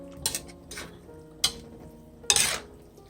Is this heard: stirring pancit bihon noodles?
yes